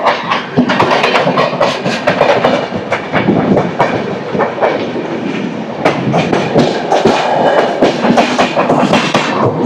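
A Bengaluru–Bhubaneswar express train passes right alongside, a loud near roar with rapid clickety-clack of wheels over rail joints running continuously throughout.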